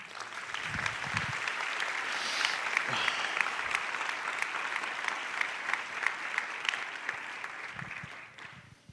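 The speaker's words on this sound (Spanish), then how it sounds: "Dale un aplauso al Señor." A church congregation claps together during a Spanish-language sermon, dense sustained applause rising quickly and holding steady for several seconds before fading away near the end.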